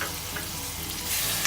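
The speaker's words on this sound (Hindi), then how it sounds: "अब हम इसमें ऐड करेंगे हमारी रेड चिली और कैप्सिकम और इसको कुछ सेकंड के लिए ऐसे ही पकने के लिए छोड़ देंगे।" Tomatoes, red chili and capsicum fry in a pan for Indian-style macaroni, giving a dense, steady close-up sizzle throughout with no voices.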